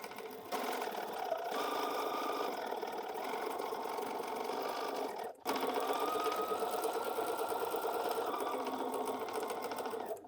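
Home sewing machine stitching quilt fabric for a Blooming Beauty block, running as a steady close hum with a brief pause midway before continuing.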